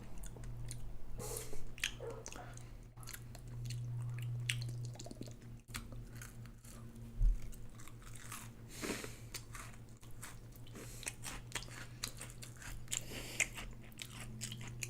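Someone bites into and chews a crunchy homemade brownie, close and quiet, with crisp crunches and soft chewing spread over a long stretch and a low hum behind.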